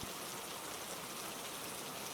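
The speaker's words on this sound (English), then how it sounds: "the weather is absolute, heavy, washing gray curtain of rain that has been falling for centuries." Heavy rain pouring down in a dense, unbroken hiss, steady and enveloping with no pauses or other sounds standing out.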